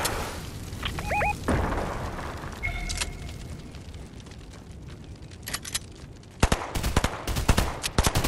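Gunfire in the video game Fortnite, with scattered single shots and rapid bursts, some near and loud, others farther off, plus a couple of brief electronic tones, no talk.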